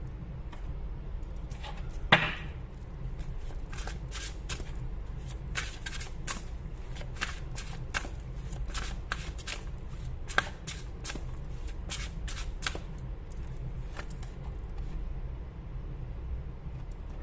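Tarot cards being shuffled by hand before the final card is drawn, a steady run of crisp riffling flicks and soft slides over about seventeen seconds, close and alone with no talking.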